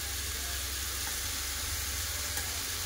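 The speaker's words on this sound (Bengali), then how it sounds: "আলুর সাথে সব মশলা ভালো করে কষে নেব" Potatoes frying in a pan with ground coriander, cumin, chili and turmeric give off a steady, close, continuous sizzle throughout.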